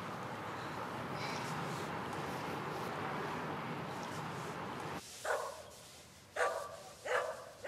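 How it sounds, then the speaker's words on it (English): A dog barks repeatedly in short bursts after a stretch of steady background noise, with sharp, fairly close yaps spaced about a second apart. "What are we gonna do about that dog?"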